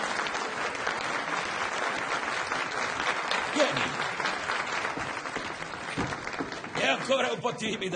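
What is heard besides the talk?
audience applause welcoming someone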